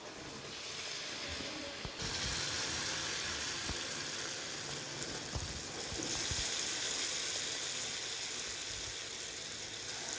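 Sweet pua fritters sizzle in hot oil, a constant soft hiss and crackle with occasional pops, steady and fairly quiet with no talking.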